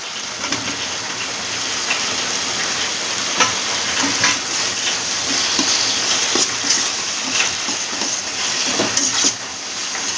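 Fried potatoes added to hot mustard oil in a pan while cooking a Bengali fish-roe fritter curry, giving a steady, loud hiss and crackle of sizzling oil with scattered pops throughout.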